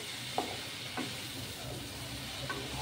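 Fish curry spices being sautéed in a pan for a Bengali tangra fish curry with potato and aubergine, giving a steady soft sizzle with a few brief stirring scrapes and no talk.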